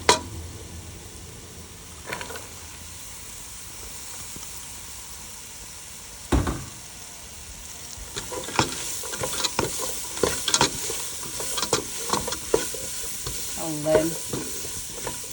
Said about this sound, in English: I'm going to add the onions in now